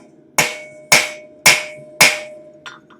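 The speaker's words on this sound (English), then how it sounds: "we'll hammer down those heads" Four sharp metallic hammer strikes on steel tongs on an anvil, evenly spaced with ringing decay, then a fainter tap or two at the end.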